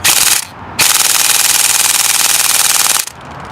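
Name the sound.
Tokyo Marui Next Gen Recoil Shock MK18 airsoft rifle firing full auto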